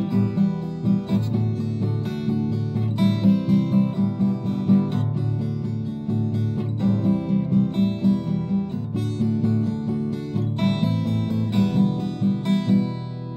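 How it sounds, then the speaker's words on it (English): Acoustic guitar strummed with bare fingers rather than a pick, playing the chords of a song in a steady, continuous rhythm, close and alone. "I'm not using a pick for this just because I like how it sounds without a pick on acoustic."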